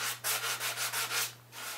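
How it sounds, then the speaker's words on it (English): Rhythmic back-and-forth sanding strokes on a wooden guitar with a soft sanding block and 220-grit sandpaper, about six even rasping passes in quick succession, close and clear with no talking. "all I'm using here is a soft little sanding block, some 220 grit"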